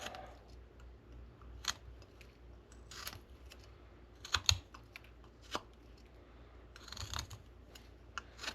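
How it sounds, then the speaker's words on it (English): A knife carving a V cut into a wooden cardinal figure: sparse, quiet scraping and clicking cuts at irregular intervals, a few sharper snaps standing out, close and alone. "we're gonna make a V cut here, the bottom of his chest"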